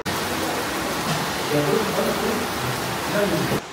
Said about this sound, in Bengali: দুর্দান্ত বৃষ্টি হচ্ছে, প্রচণ্ড বৃষ্টি, যে দেখাই যাচ্ছে না।